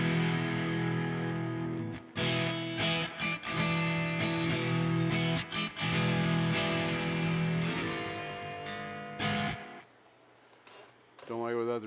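Electric guitar chords and notes ring out with a dotted-eighth delay repeating each phrase, dry with no reverb, playing steadily for most of the stretch before dropping out near the end and returning briefly.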